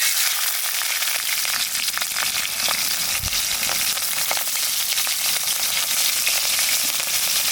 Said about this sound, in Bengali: তেলের পর দিয়ে দেবো কটা কালো জিরে আর দেবো কটা কাঁচা লঙ্কা